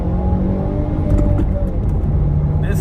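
A stock 2018 Subaru WRX engine drones steadily under hard acceleration, a loud close-up interior rumble with the revs climbing slightly over the few seconds.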